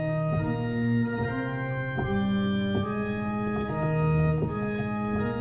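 Pachelbel's Canon in D played on a sustained, organ-like instrument, a stately melody over a steady repeating bass line, moving in even, measured steps with no voices.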